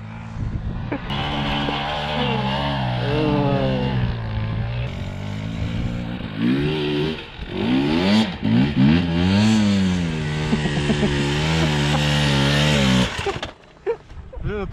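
A dirt bike engine revs loudly and repeatedly, rising and falling in pitch with sharp throttle bursts, then cuts out near the end.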